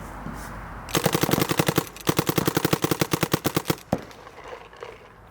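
A Planet Eclipse Ego paintball marker fires semi-automatic in two quick bursts of sharp, evenly spaced pops, about twenty-five shots in all, loud and close outdoors with a final single shot.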